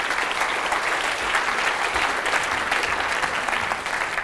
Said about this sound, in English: So let's give our volunteers a round of applause.